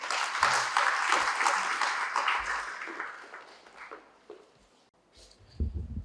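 An audience at a professional institute event claps to welcome a speaker to the podium, a dense round of applause that swells and then thins out over several seconds, ending in a few scattered claps and small knocks.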